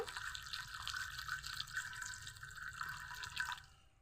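Water pours into a kadai of jackfruit seeds on the stove, making a quiet, continuous trickle that stops near the end.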